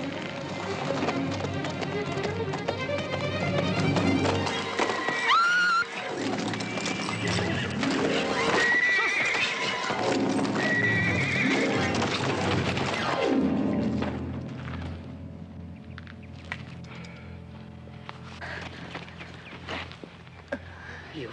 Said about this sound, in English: The horse's hooves.